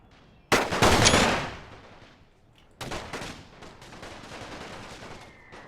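Massed rifle and machine-gun fire in a WW1 Total War mod battle in Russia: a loud crackling volley that fades, then a second, quieter stretch of scattered shots.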